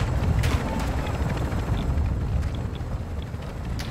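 Helicopter in the video game Call of Duty DMZ, a steady loud rotor and engine rumble with faint chopping throughout, with no speech.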